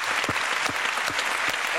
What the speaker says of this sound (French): applaudissements pour Jacques Lafitte qui est pas là, mais qui mérite aussi